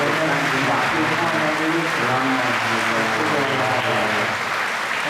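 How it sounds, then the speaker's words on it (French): A congregation at a Catholic healing service in Bergerac, France, claps steadily and continuously. A voice speaks and sings over the sustained applause throughout. "Clap your hands. Vous pouvez applaudir votre Seigneur."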